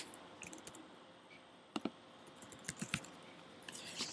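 Someone types on an Apple computer keyboard, producing faint, quiet clicks of keys in small irregular bursts over soft room hiss.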